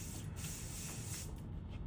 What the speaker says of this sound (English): Just use a holding spray,